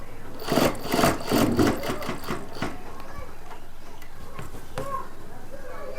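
A sewing machine stitches a kurta in short rapid bursts of mechanical ticking, loud and close, with pauses between runs and quieter handling noises.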